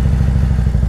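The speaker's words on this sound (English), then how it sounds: "There's two motorcycles." Motorcycles rumble close by in a steady, loud, low engine drone with rhythmic pulsing and a faint clatter, and no voices over it.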